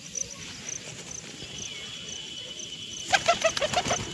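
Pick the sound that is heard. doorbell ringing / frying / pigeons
pigeons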